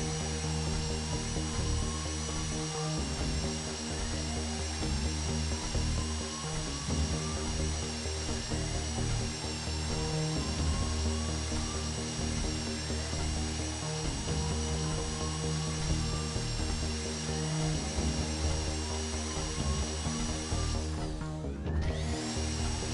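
A heist drill runs continuously at close range while a vault door is bored open in GTA Online, a steady mechanical whine with a rising, repeating pitch under a dense layer of game noise.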